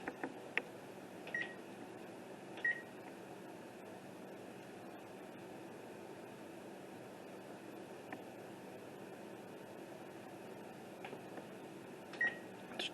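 An oven control panel chirps out short, high electronic beeps while the temperature is being set to 450 degrees, a handful of isolated beeps spread over a quiet kitchen hum.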